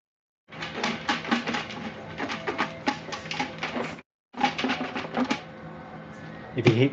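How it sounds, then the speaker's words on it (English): Paper raffle tickets shaken in a container for a Christmas raffle, a continuous dry rustling rattle in bursts with a brief pause partway through, fairly close and with no talking. "If you can hear something in the background shaking, that's me shaking the tickets right now."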